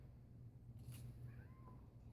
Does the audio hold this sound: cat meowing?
yes